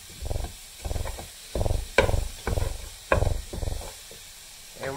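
Food cooks on a home stove for walking tacos while a utensil stirs and scrapes it in a pan, sounding in short rhythmic bursts about every second, close and fairly quiet, with a soft sizzle between strokes.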